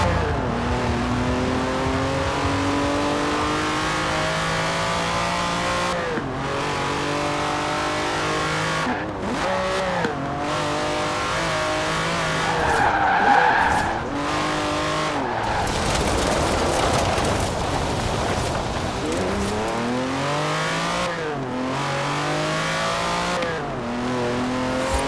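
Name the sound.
Lamborghini Countach racing in video game Forza Horizon 4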